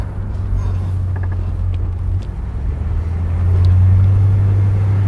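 A 1972 Chrysler New Yorker with a 440 V8 drives along the road, its deep engine drone steady inside the cabin before swelling louder and lower as the car accelerates.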